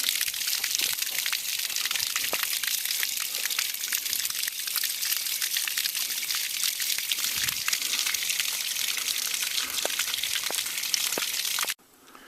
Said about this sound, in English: Okay, here's the water coming out.